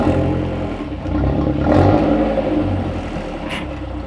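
Nearby car with an aftermarket exhaust rumbling low and steady as it is driven, the engine note swelling slightly, with some clatter and whir over a deep drone.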